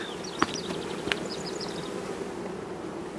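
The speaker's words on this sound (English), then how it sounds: "It's a big old heavy box of bees right there." A honeybee swarm hums inside a heavy wooden box as it is carried, a steady, close buzzing drone with a couple of sharp clicks and bumps from handling.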